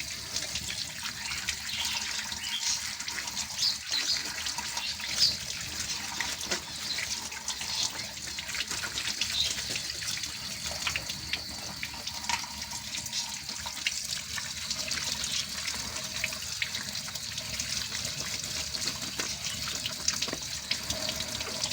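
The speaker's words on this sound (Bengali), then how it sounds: "মাছগুলো একটু ধুয়ে রেখে দিই" Katla fish pieces being rinsed under a running kitchen tap, a steady close hiss of flowing water into a sink that continues without a break and with no talking.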